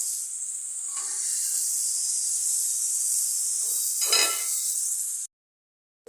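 Vegetables go into a hot pan of fried small prawns for a Bengali chorchori, a loud steady hiss of oil with a couple of clattering stirs, then it cuts off abruptly near the end.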